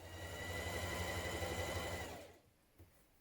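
A sewing machine runs steadily, stitching pockets onto the back piece of a summer dress, a close continuous mechanical whir for about two seconds before it stops, leaving near quiet with a faint knock.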